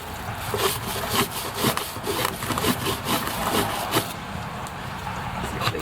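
A brush scrubs a bicycle chain in quick back-and-forth strokes, close and rhythmic over a gritty, scratchy bed of noise.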